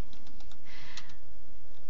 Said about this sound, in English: so we're going to type the date today.